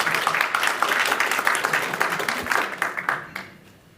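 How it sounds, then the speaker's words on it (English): Audience applause at a data conference talk, a dense run of claps rising and falling, then thinning and fading out near the end. "Give him a warm applause."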